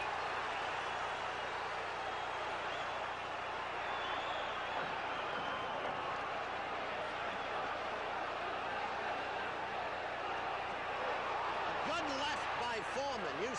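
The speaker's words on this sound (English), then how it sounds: "Foreman getting hit by a left and the crowd roars" Crowd at the George Foreman vs Joe Frazier heavyweight boxing match roaring in a steady, distant wash, with a commentator talking over it.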